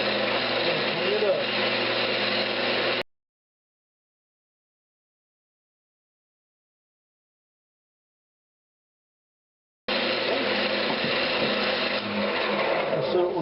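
A lathe scraper cleans up a spinning Brazilian cherry lidded box, giving a steady, loud broadband scraping hiss for about three seconds, then silence, before the same continuous cutting noise returns near the end.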